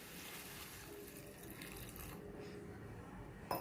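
Water trickles into a frying pan of finely chopped cluster beans for a stir-fry, a quiet, steady pour lasting a few seconds and ending in a small clink.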